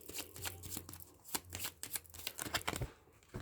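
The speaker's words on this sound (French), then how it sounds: "on mélange un petit peu les cartes" Lenormand cards being shuffled by hand, a close, brisk run of papery riffles and soft slaps in irregular bursts with no talking.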